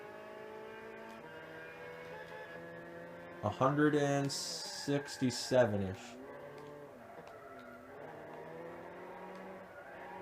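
A truck engine races around a go-kart track in Gran Turismo 6, revving and shifting with harmonic engine tones, including a louder burst of revs and tire noise in the middle, while someone speaks briefly.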